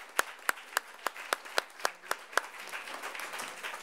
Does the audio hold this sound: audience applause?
yes